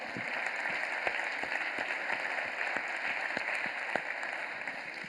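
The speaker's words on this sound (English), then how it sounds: "please join me in a round of applause for them" Faint, steady applause from a congress audience fills a hall at the ALDE Party Congress opening, a continuous patter with a few sharper claps standing out.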